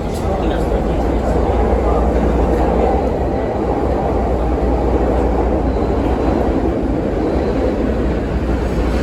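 A CTA Blue Line subway train, car 3329, roars steadily through an underground tunnel, a loud continuous rumble and track noise heard from inside the car, with voices faintly beneath it.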